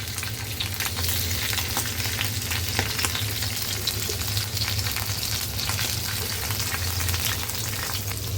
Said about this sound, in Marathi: हळदीवरचीच गाबोली मी फ्राय करते बघा